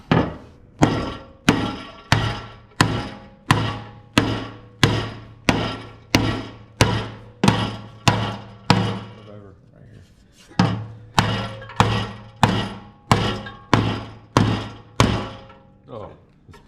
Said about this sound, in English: Let's hammer it.